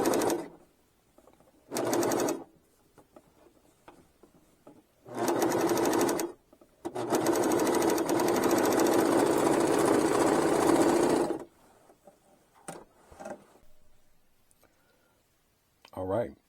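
A sewing machine stitches garment side and sleeve seams in several bursts of rapid mechanical clatter, one long run of about four seconds, close and loud, separated by quiet pauses.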